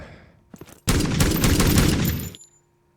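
Loud burst of automatic gunfire in the survival shooter Zero Sievert, a dense, sustained volley lasting about a second and a half after a few faint shots, then cutting off abruptly.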